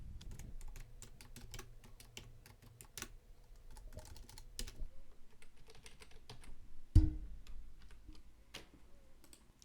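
Typing on a computer keyboard, with irregular, fairly quiet bursts of key clicks that are close and isolated, plus one heavier thump partway through.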